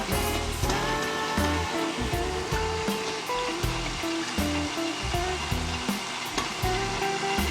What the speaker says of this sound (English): I'm mixing it together.